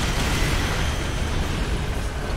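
A dense, sustained roar of broadband noise from an explosion in the video game EDF 4.1, loud and continuous across the whole stretch with no clear individual bursts or speech.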